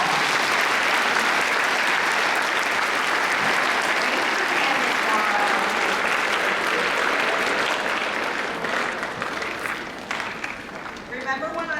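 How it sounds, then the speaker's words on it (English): A room full of listeners claps loudly and continuously for a woman giving a speech, a dense sustained wash of applause that thins slightly near the end as voices emerge. "Let's give her a round of applause."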